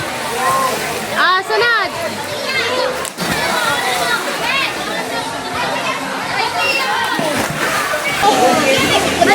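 Children splash down a water slide into a pool amid lively chatter, sloshing water and splashes, with kids shouting and a man calling out over the constant outdoor noise.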